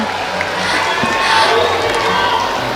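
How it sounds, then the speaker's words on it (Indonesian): A student audience cheers for Rocky Gerung, a loud, continuous crowd roar of clapping and shouting voices that stays steady throughout. "Tepuk tangan dong buat Bung"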